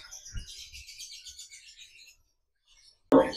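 A male lovebird chirps in a quick, high twittering run for about two seconds, then falls quiet before a sudden knock or thump.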